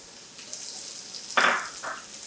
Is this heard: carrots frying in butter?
yes